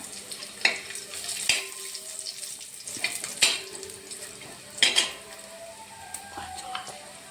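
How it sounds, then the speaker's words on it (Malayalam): Coconut pieces and cashew nuts fry in a pan for jackfruit-seed payasam, with a soft steady sizzle broken by several sharp scrapes and clinks of a spoon stirring against the pan, close and fairly quiet. "തേങ്ങാക്കൊത്ത് മൂക്കാറായിട്ടുണ്ട് അതിലേക്ക് നമുക്ക് അണ്ടിപ്പരിപ്പ് കൂടി ഇട്ട് കൊടുക്കാം"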